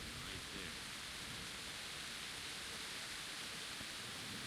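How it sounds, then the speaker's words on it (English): Steady rain falls across a medieval outdoor scene in the video game Kingdom Come: Deliverance, a dense, even hiss that fills the whole stretch at low level with no voices over it. "I'm amazed this torch is still going in this rain"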